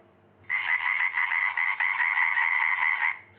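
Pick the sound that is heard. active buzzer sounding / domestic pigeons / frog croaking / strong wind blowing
frog croaking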